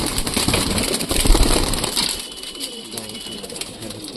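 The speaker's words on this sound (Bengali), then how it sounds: "এই পায়রাগুলো ছাড়ছে দেখো" Pigeons of mixed fancy breeds are set loose from a loft, starting with a burst of close wing flapping and scuffling that settles into softer fluttering and low cooing.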